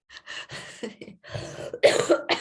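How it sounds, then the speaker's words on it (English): A person with a lingering post-COVID cough coughs several times in a row, close and fairly loud, harsh bursts with short breaths between them. "sorry guys, I still have a post-COVID cough."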